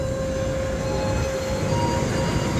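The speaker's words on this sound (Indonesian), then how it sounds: "kereta Ciremai ke Bandung berangkat" The Ciremai train pulls out of Semarang Tawang station with a steady, loud low rumble and a constant tonal hum, heard close and without talk.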